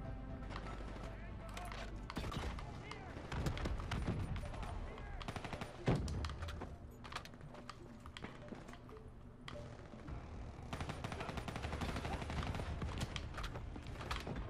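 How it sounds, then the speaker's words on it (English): Dense gunfire in the Black Ops 3 campaign, with continuous shots and bursts mixed with explosions and game noise, a busy layered battle soundscape throughout. "Who's shooting me from over here?"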